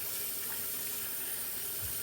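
Cold tap water runs into a sink while food is broken down under it, a steady close hiss of flowing water throughout.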